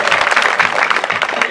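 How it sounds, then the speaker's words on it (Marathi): A crowd at a Home Minister family show for Shiv Jayanti in Ninam Padali claps loudly to honour a woman, in brisk uneven bursts mixed with voices. "एका माऊलीसाठी जोरदार टाळ्या वाजवा."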